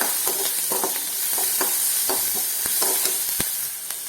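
Onion and green chilli with salt sauté in a pan for a thoran, a steady sizzle broken by repeated spoon scrapes and clicks as the mix is stirred.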